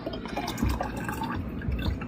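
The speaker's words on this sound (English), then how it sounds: "I'm just going to pour this last little bit" Melted beef tallow trickles and drips steadily into a jar, a soft, close pouring sound with faint splashes.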